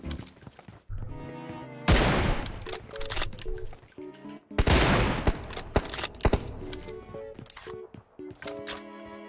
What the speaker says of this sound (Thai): เออยิงไอ้ชุดชมพูไม่โดน